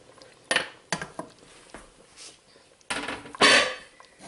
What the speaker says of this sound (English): now I'm going to add in the rest of the turkey that I had cut up